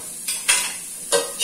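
Chopped bacon sautéing in a pan for a Christmas farofa, heard as soft bursts of sizzle and stirring scrapes that swell twice over a quiet background.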